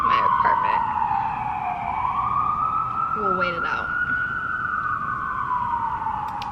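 An ambulance siren passes by outside an apartment, wailing steadily and rising and falling in pitch at moderate distance, while a person briefly speaks over it.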